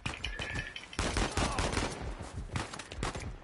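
Sniper and rifle fire crack in Uncharted 4, a loud volley of sharp, repeated shots in bursts with brief gaps, heard up close amid combat noise.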